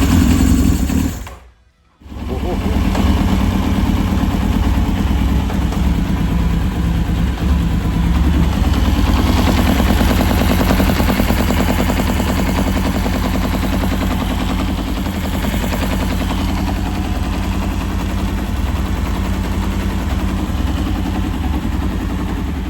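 A 1992 Honda Fireblade SC28 engine runs after a carburettor rebuild, giving a loud, close, rough idle with a brief drop to silence near the start before it settles into a steady rumble.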